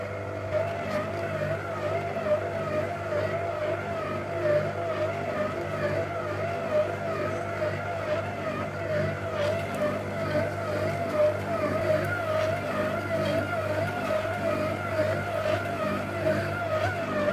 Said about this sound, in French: on va lancer notre robot en vitesse 1 pour que tout se mélange et que ça forme une boule